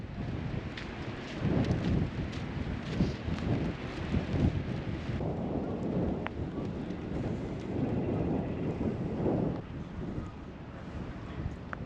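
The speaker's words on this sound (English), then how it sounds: "It was windy and rainy" Wind buffets a campsite trailer in the California desert at night with rain, a continuous low rumbling roar with gusty swells and scattered small ticks.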